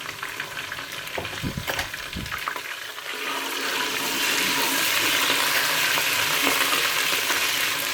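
Garlic and ginger paste sizzles loudly in hot oil with fried onions for aloo palak, a steady bright hiss that swells after a few seconds of soft stirring and clinks, filling the rest of the clip.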